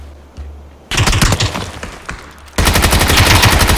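Rapid automatic gunfire in PUBG Battlegrounds, a loud close burst of rattling shots, a brief pause, then another sustained volley.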